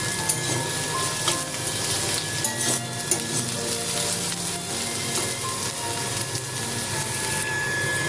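Onion and potato with slit green chilies sizzle steadily in a hot pan, a dense continuous frying hiss with occasional stirring scrapes, close and fairly loud.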